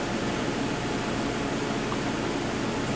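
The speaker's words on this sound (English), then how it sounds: "the whirring noise you can hear is my nice new gas heater" A new gas heater whirs steadily indoors, a constant broadband airy hiss and hum with no change over a few seconds and no voices.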